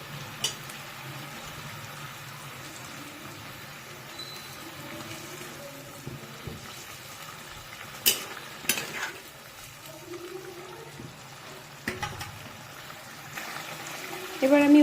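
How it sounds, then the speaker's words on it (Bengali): Mustard hilsa fish curry simmers in a pan, giving soft bubbling and faint liquid burbles, broken by a few sharper clinks and stirring knocks, with occasional voice in the background. "ঝোলটা খুব ভালো করে টকবক করে ফুটছে।"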